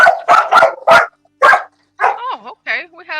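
Several dogs bark loudly and close by in quick bursts, then break into higher yips and whimpering whines.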